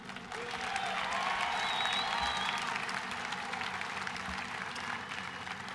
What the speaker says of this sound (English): Can we get a round of applause for all the Arrowmen in the arena?